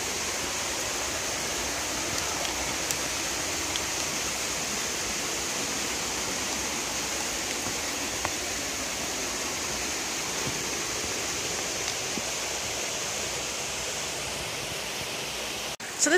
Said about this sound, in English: So we're on the side of the creek.